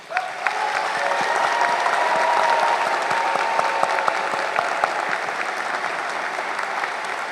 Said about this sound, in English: give all of our graduates today a round of applause